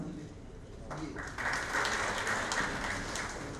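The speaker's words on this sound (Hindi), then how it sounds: "एक बार जोरदार तालियां आप सभी की" Audience applause at a Hindi-language book launch ceremony for a revenue code book, rising into a sustained, moderately distant clapping from a large crowd after a quieter opening.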